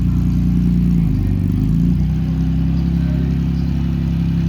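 A 1945 Jaguar MK4 engine, freshly given an oil change, runs smoothly close by with a steady, even low hum and a slight dip in pitch partway through.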